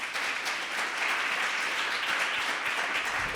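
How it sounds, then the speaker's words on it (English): A symposium audience claps for students in a dense, steady round of applause that continues evenly from start to finish, moderately loud and with no talk over it. "Can we give our students a round of applause?"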